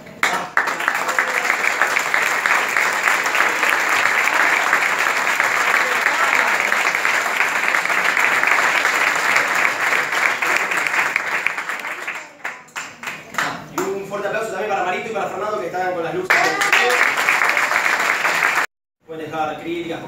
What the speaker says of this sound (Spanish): Un fuerte aplauso acá para las directoras de casting de Polka.